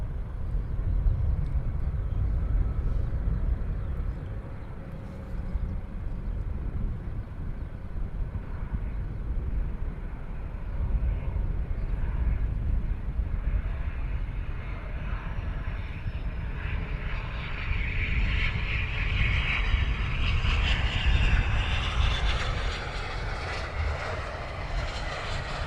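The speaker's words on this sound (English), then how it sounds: "we'll pan around to the next aircraft arriving" A plane arriving at Luton Airport, heard as a steady broadband engine roar that swells and brightens toward the end as the aircraft comes closer, continuous for the whole stretch without talk.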